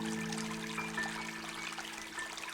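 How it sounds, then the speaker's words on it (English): A babbling brook far below a castle cliff in Somerset trickles faintly and steadily, a soft, distant wash of running water under a low, constant hum. "the babbling brook below, which you can just about hear in the background"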